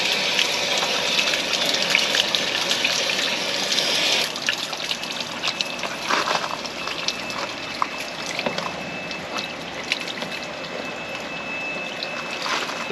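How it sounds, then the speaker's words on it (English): Water and vinegar flushing out of an RV water heater in a steady, continuous gushing rush with splashing trickles, close and constant throughout. "flush out all of that extra calcium and buildup that's in there"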